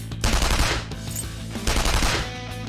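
A gun attack in the battle system of Persona 5 Royal, two rapid bursts of automatic fire, loud and close, separated by a brief lull.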